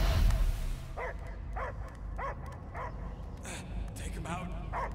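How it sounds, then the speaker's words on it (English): A dog barks repeatedly in the Guardians of the Galaxy video game, about six evenly spaced, fairly close woofs over a low background rumble after a brief loud opening noise. "I hear only barking."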